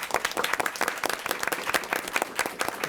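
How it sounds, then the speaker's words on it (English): A small group at a Salem school committee meeting claps in a sparse round of applause, individual hand claps distinct and close in a quiet room. "So I just want to give Ms. Miranda a big round of applause."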